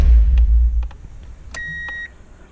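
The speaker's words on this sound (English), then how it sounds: "Wait for the beeping to stop." A car chimes after being shut off, giving a few soft, close beeps and one longer tone following a fading low engine rumble, in a quiet setting.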